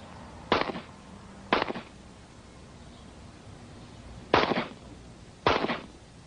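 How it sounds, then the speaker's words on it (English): Four sharp gunshots at target practice ring out close by, spaced irregularly as two pairs with a quiet gap between them, each a hard crack with a short tail and no talking. "At target practice, his alter personalities take turns shooting."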